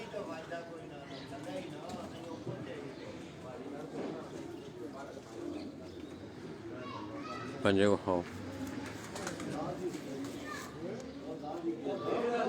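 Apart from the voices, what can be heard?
pigeon cooing, female pigeon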